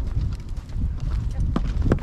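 Horse hooves clop at a gentle walk during a desert ride, a soft uneven rhythm mixed with a rustling, rumbling background and a couple of brief sharper knocks.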